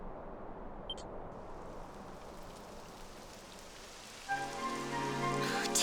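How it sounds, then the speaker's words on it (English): Rain begins falling in the fantasy role-playing game Dragon Quest XI, a steady hiss of drops over a soft ambient bed, with a brief chime near the start and a swell of game music entering toward the end. "Typical. It would have to go and start raining, wouldn't it?"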